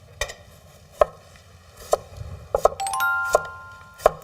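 A knife slices a cucumber on a board, cutting it diagonally and then into thin strips. About eight crisp, separate chops fall at an uneven pace, and a bright chime rings out midway.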